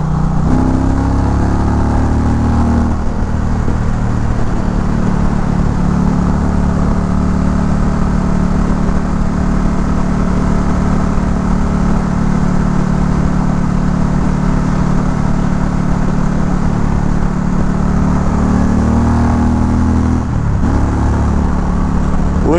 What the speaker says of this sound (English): Liquid cooled Power Plus engine on the Indian Challenger.